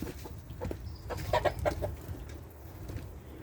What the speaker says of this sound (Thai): เดี๋ยวได้กิน เดี๋ยวข้าให้อาหาร ให้น้ำไก่ก่อน